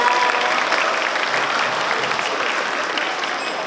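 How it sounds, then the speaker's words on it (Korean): A seated audience at a talk during the Seoul International Book Fair claps steadily, a dense, even wash of applause that tapers slightly toward the end with no voices over it. "두 분께 다시 한번 큰 박수 부탁드리겠습니다"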